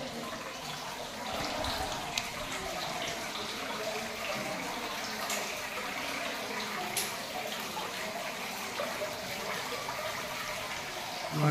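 Water spills steadily over rocks in a home's stone water feature, a continuous splashing rush that stays even and fairly close throughout, with a few brief louder splashes.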